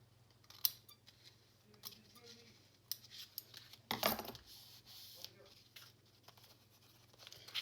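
Scissors snip off a folded flap on a junk journal book page, giving a few quiet, sharp cuts and paper rustles with a louder crisp snip midway, in a fairly quiet room.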